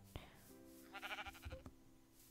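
A sheep in the game Beastplay bleats a few wavering cries up close, following a short sharp tap, with no talk over it.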